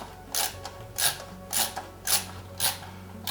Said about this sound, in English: Now that should give us the second screw going in on the bottom straight in without any issues